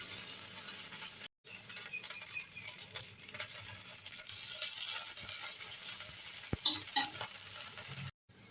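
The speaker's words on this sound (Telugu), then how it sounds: "రంధ్రాల్లో కొద్దిగా ఆయిల్ వేసుకొని కాల్చుకోండి" Batter snack frying in a pan with a little oil dripped into its holes, a steady close sizzle with a few faint clinks and scrapes, running on without speech apart from two brief gaps of silence.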